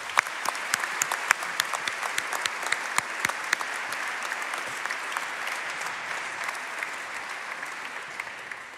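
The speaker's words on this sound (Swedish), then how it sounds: "En stor applåd för de nyinvalda." An audience applauds newly elected members at a formal academy ceremony, steady dense clapping from a large crowd with a few sharper individual claps standing out, sustained for several seconds.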